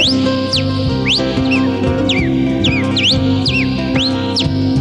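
Quick upward and downward whistled chirps imitate a cardinal's song, repeating several times over steady rhythmic folk-song backing.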